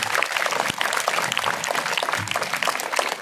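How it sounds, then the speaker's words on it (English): A school audience at a speech competition claps loudly and steadily throughout, a dense continuous roar of many hands with no break. "Clap loudly."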